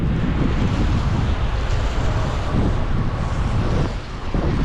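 Water rushes and pours steadily over a sluice gate in a broad, noisy roar during a storm in Jaffna, with wind buffeting the microphone, continuous and fairly loud throughout.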